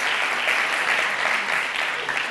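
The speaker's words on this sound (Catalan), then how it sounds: "Aplaudiment, aplaudiment" An audience at a Catalan television quiz show applauds steadily, a close, continuous burst of clapping with no talking over it.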